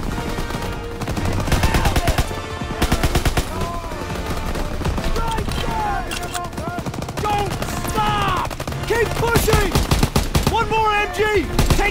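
Sustained enemy machine gun fire in the WWII shooter Call of Duty WWII rattles in dense, rapid bursts throughout, loud and close, mixed with battle noise and scattered shouted voices.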